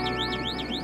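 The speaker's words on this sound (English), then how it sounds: "when there's a train movement or a rail movement, and it breaks that signal, it sends an alarm back to the receiver" An electronic alarm from a Train Safe laser track protection system, triggered when a train or rail movement breaks the beam, sounds as a steady warbling tone that sweeps up and down repeatedly over a constant hum.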